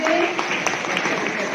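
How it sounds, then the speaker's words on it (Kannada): Students at an award ceremony honouring top SSLC and PUC scorers clap in a steady, dense wash of applause throughout, with a voice speaking over it. "ಎಲ್ಲರೂ ಚಪ್ಪಾಳೆ ಹಾಕಿ"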